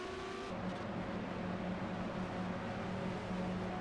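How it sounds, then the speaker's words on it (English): Race cars at the Spyder Grand Prix of Denver run down the pit lane, a steady, continuous engine drone heard at a distance with little change in level. "A lot of cars down pit lane here."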